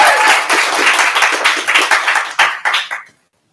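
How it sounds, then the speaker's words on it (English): An improv comedy audience at a Christmas show applauds a volunteer coming onstage, a dense wash of many hands clapping that holds steady, thins into a few scattered claps and stops abruptly after about three seconds. "Give him a round of applause."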